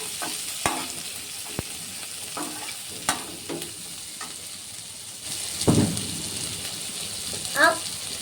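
Chopped onion, garlic and green chili fry in a pan with a soft continuous sizzle, broken by sharp spatula clicks and scraping stirs, with one louder stirring burst midway.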